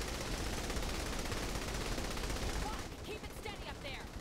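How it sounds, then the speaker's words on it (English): A standard assault rifle fires in a video game, dense rapid automatic bursts with no pause for most of the stretch, then thinning to scattered shots as faint voices come through. "Oh, this is just a standard assault rifle."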